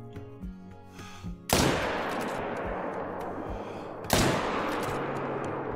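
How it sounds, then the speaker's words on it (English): Two booming shots from a .300 Magnum hunting rifle in Call of the Wild, each a sudden loud blast with a long rolling echo, spaced a few seconds apart against quiet outdoor ambience. "both those shots should have been decent"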